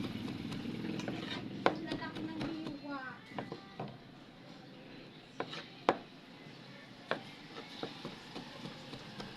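A knife chops tomatoes on a board in irregular taps, some sharp and close, with a voice talking in the background.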